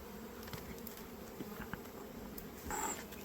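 Honey bees hum steadily around an opened hive at an apiary, a dense, continuous drone close by with a brief louder swell near the end.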